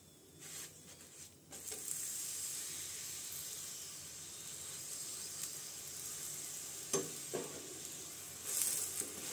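A paratha frying on a hot pan with oil, butter or ghee, giving a steady close sizzle and hiss with a few brief louder bursts as it is flipped and pressed.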